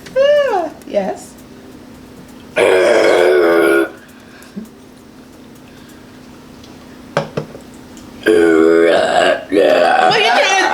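Loud, drawn-out burps during a burping challenge: a long croaking belch near the start and two more near the end, each about a second or more, with short bits of talk and quiet gaps between.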